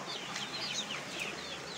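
Chickens clucking on a farm, several hens calling in short repeated bursts close by over a steady background hiss, with no talking.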